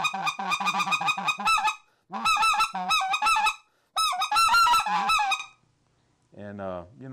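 A Redbone goose call blown with a one-hand grip gives out loud, close honking bursts in quick rhythmic series, three clusters separated by short pauses, followed by a lower, shorter honking phrase at the end.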